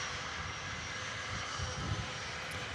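Jet airliners at Manchester Airport, a steady distant roar of aircraft engines drifting across the airfield, with a soft low rumble that swells slightly midway.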